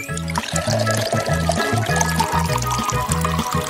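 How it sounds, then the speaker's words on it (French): Chocolate milk is poured into a Starbucks coffee, a steady liquid pour running continuously under rhythmic background music. "maintenant, on doit verser plus de lait au chocolat dans le café de Starbucks"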